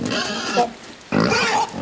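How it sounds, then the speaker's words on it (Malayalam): A pig in the video game Inside grunts and snorts in two short, close, rough bursts as it runs, with a brief quiet gap between them. "ഓ പന്നി ഓടുന്നു"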